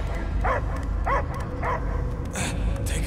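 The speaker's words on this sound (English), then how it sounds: "I hear only barking." A dog barks in a short, evenly spaced series of yips in a Guardians of the Galaxy video game scene, loud and close over a low ambient background.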